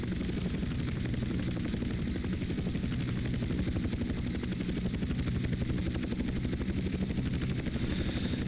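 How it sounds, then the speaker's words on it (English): Steady rapid rotor chop of a helicopter flying in GTA: San Andreas, loud and close, holding an even pulsing drone throughout with no voices over it. "Kind of a slow helicopter though,"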